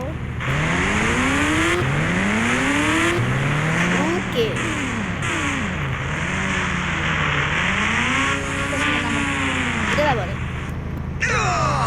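Motorbike engine from the video game Indian Bike Driving 3D, a ghost rider style bike, whining and sweeping up and down in pitch as it revs and shifts continuously, with someone talking over it throughout.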